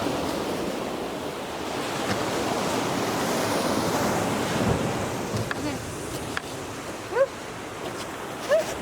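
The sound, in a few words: ocean waves at Leo Carrillo State Beach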